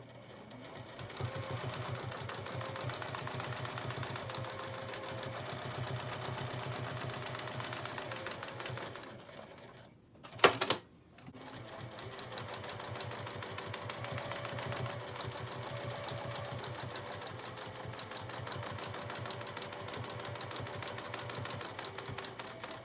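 A sewing machine stitches loop-de-loop vines on a quilted pumpkin hot pad, running in a steady, close, fast mechanical rattle that stops briefly midway for a sharp clunk, then resumes at the same pace.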